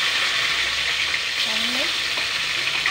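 Tomatoes fry in hot oil in a pan for a cucumber vegetable curry made without onion or garlic, giving a steady, close, even sizzle with no pauses and a faint voice in the background.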